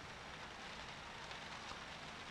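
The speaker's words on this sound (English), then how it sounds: "And the rain." Rain falls outside in the horror game P.T., a faint, steady, even hiss of drops on surfaces with no other sounds.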